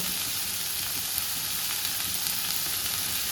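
Onions frying in a pan for butter chicken with kasuri methi added, a dense continuous sizzle and hiss close up, steady and loud without any talking.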